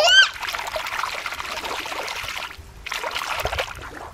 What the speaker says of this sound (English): Let's put the octopus back in the water.